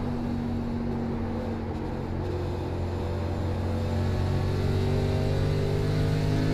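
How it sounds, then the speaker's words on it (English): A race car engine in the iRacing K&N National Series at Lucas Oil Raceway holds a loud, steady, high-revving drone with layered harmonics. It runs alone and close throughout, with no talk. "Look at the RPMs that we're pulling"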